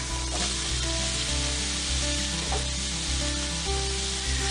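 Diced baby golden potatoes fry in a pan with mushrooms and golden onions, a steady close sizzle with a soft crackle and occasional stirring scrapes, no voices.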